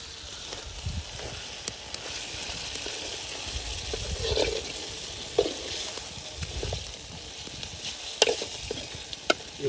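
Green chilli chicken frying in a kadai, village style, with steady sizzling under repeated stirring and occasional scraping clinks of the spoon against the pan, close and moderately loud throughout.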